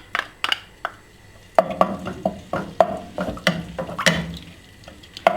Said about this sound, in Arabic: حنحط زيت الزيتون، حنحط شويه الثوم